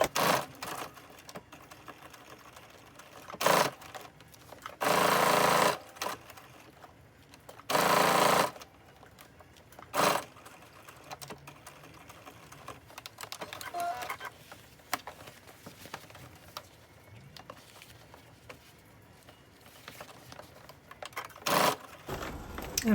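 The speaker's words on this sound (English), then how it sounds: "And we're stitching a 1/2 inch on all sides, all the seams." Short bursts of a sewing machine stitching interface fabric pieces for a top and pleated skirt, several loud whirring runs separated by pauses with faint handling noise between.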